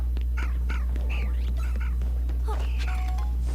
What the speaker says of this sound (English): found her something to bark at